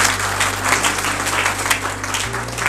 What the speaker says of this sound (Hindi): ई-माई रिटेल के ताली बजा दो